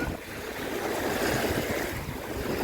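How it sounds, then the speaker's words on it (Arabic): Sea waves wash onto a beach in a steady, close rush of surf, swelling slightly toward the end with a broad hiss and no voices. "يا زين صوت البحر."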